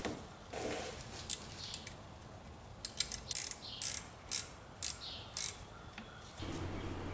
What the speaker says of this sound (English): First, I'm starting with a screwdriver, and then I switch to a ratcheting 8-millimeter wrench.